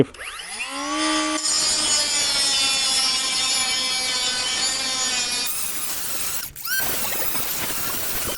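A compact Einhell TP-CO 18/76-C cordless mini angle grinder whines up and cuts through 35 mm steel angle with a loud, harsh, sustained screech, briefly pausing near the end before grinding resumes.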